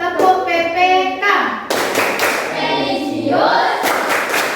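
Children clapping out the Tepuk PPK class clap in a classroom, a loud rhythmic run of hand claps mixed with children's chanting voices throughout.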